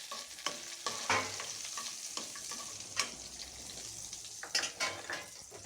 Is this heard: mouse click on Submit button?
no